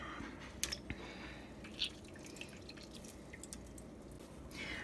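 Buttermilk dripping off a squeezed lump of homemade butter: quiet, scattered wet drips and small splashes over a low, steady background hum, close but faint.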